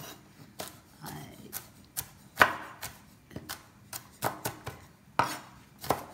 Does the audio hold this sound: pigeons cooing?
no